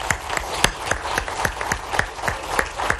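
On a television talk show set, a studio audience applauds a guest, with sharp, evenly spaced claps standing out in a steady rhythm over a light bed of scattered clapping.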